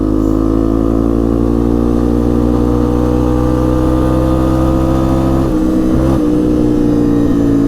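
A 1998 Yamaha Big Bear 350 4x4 ATV engine drones loud and close in fifth gear under steady throttle, holding an even pitch before dipping briefly near the end, with no voices.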